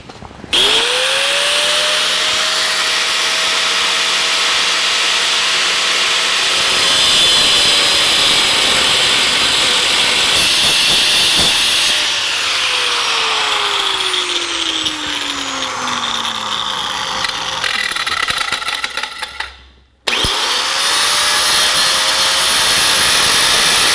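Power tool cuts the bottom off a steel hat channel for a 1949 Chevrolet gasser drive shaft loop, a loud sustained high-pitched whine that shifts in pitch as it bites, stops briefly, then starts again.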